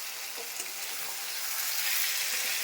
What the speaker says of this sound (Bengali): এখন আর ঢাকা দিব না, ঢাকা আর দিব না, আমি এখন এইভাবেই ভাজবো।